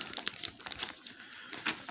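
A plastic vinyl record sleeve crinkles close by in quick, irregular bursts of crackly rustling.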